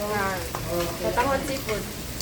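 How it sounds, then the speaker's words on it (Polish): Shrimp frying in a pan, with a soft continuous sizzle and crackle at a modest level, with voices chattering over it at intervals. "tutaj smaży krewetki, shrimp"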